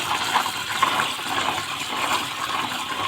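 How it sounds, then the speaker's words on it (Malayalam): Jackfruit seeds are rinsed in water in a home kitchen, giving a continuous rushing and splashing of water at steady loudness, with no voices. "വീണ്ടും ഒരു പ്രാവശ്യം നല്ല വെള്ളത്തിൽ കഴുകിയെടുക്കുന്നുണ്ട്."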